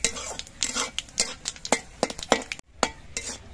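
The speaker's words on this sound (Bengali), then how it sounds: "এবার এই সব মশলাগুলো একটু ভেজে নেব বেশি লালচে রং ধরিয়ে।" Two bay leaves, two dried red chillies and whole cumin frying in oil for a snakehead fish curry, heard mostly as a quick run of close spatula scrapes and clinks against the pan over a faint sizzle.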